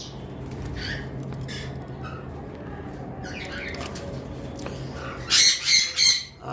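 Yellow-sided conure parrots, sold in pairs, give three loud, harsh squawks near the end over faint background chatter and earlier distant calls.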